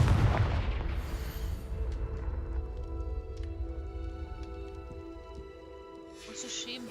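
A Confringo blasting spell goes off in Hogwarts Legacy, a heavy booming blast that rolls and fades over several seconds, followed by faint crackling game effects.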